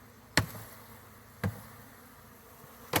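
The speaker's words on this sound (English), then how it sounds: "So you can see a bunch of bees gathering on this right there." Honey bees hum softly and steadily around a hive during installation, broken by three sharp, loud taps or knocks spaced about a second apart.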